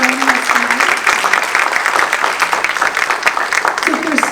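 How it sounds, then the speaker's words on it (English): An audience at a county board of supervisors candidates forum claps for the candidates, dense steady applause throughout with a voice briefly audible over it. "Let's give our candidates a round of applause."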